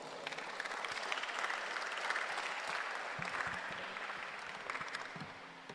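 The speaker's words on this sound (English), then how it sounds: "With a worthy round of applause, let's welcome her on stage." An audience at a STEM festival sci-tech fair opening ceremony applauds to welcome a speaker on stage, a steady, dense wash of clapping that holds even and full for several seconds with no talking.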